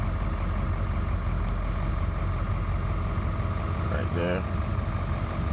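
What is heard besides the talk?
Ford 7.3L diesel truck engine idling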